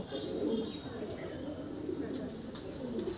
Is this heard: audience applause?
no